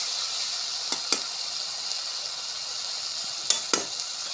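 Spice paste frying in oil for potato dal gives a steady bright sizzle, with two pairs of brief stirring scrapes standing out above it, and no talk.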